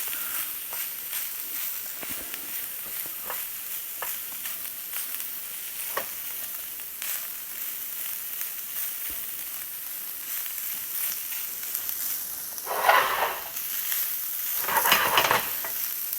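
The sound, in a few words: stirring sizzling jerk cabbage and carrots in a pan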